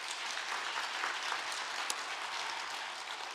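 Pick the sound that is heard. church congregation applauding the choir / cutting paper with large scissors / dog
church congregation applauding the choir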